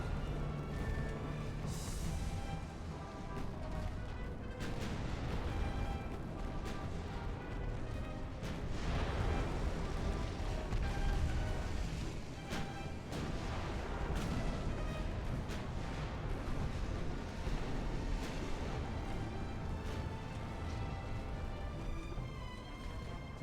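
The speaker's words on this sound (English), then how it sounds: "I need your main guns firing on those battleships now" Battleship main guns fire in the naval battle game Ultimate Admiral: Dreadnoughts, giving a dense, continuous rumble of distant cannon booms and blasts that holds steady throughout.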